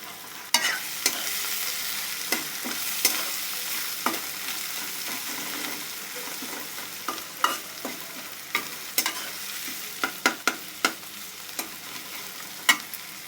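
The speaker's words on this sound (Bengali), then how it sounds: "তেলের মধ্যে এগুলো দিয়ে দেবো দারচিনি এলাচ" Whole cinnamon and cardamom frying in hot oil for an egg curry made without ginger or garlic, a steady soft sizzle broken by sharp irregular clicks and pops of spoon stirring throughout, close and moderately quiet.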